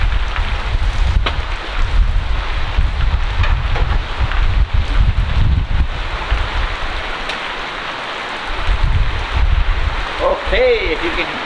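Strong gusting wind buffets the microphone outdoors beside a Searey seaplane in stormy weather, with a steady wash of rain under the loud roar and a voice talking near the end.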